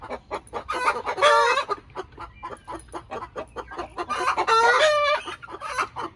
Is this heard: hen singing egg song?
yes